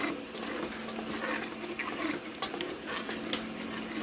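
A ham steak dropping into a hot cooking pan, followed by steady close sizzling with faint scraping and clinks of a utensil, no talk over it.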